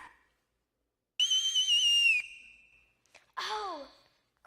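A whistle blown to summon children in a household: a long, bright rising blast, a pause, then a shorter falling call, loud and clear with no talk.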